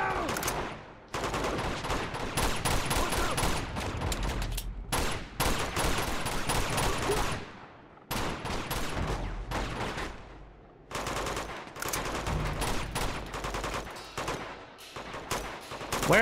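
Enemies fire guns in the video game Uncharted 2, with dense clattering bursts and volleys in long stretches, broken by brief pauses, fairly close and loud.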